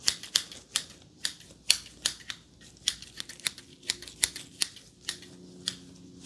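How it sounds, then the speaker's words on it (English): Sharp metallic snips repeat in an irregular rhythm, close and crisp, with brief silences between each cut. "Yes, that is correct. It is scissors."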